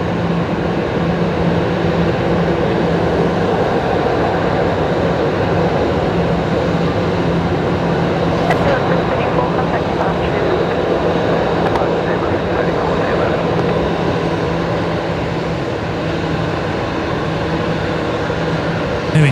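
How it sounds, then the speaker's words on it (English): A Vietjet A330-300 airliner arrives on runway 19 left with a loud, sustained jet roar and rumble that hold steady throughout, while a voice talks over it. "Vietnam Timeless Charm livery on the Vietjet 330-300 there, just arriving here on runway 19 left"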